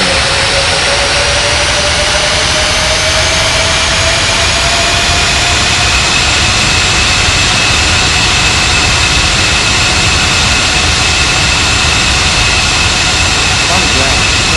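Airliner jet engines during takeoff at Bali airport: a loud, steady roar with a rising whine that keeps building and holds for the whole stretch, close and continuous, with no break.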